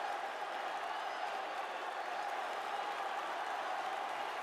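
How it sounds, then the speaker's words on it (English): Crowd at a heavyweight championship boxing match roars and cheers in a steady, continuous wash of noise, fairly distant and without clear individual voices. "the crowd as they cheer along, chanting Ali, Ali"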